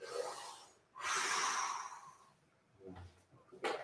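Slow, deep breaths during a seated stretching and vocal exercise session: a long, loud exhale hiss followed by quieter inhales and another sharp breath, close to the microphone.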